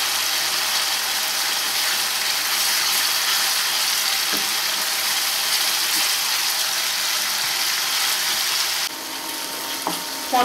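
Spices for palak paneer kofta sizzle steadily in hot oil in a pan, a loud continuous crackling hiss with a brief stir and a faint clink near the end, no speech.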